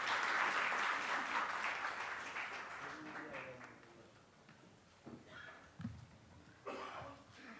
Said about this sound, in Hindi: जोरदार तालियों से आप इनका स्वागत करें।